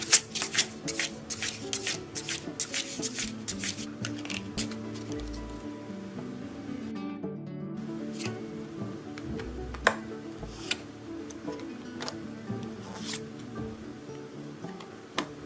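Tarot cards being shuffled by hand at close range, a dense run of quick riffling flutters and soft slaps that thins into scattered taps and card snaps, with no one speaking.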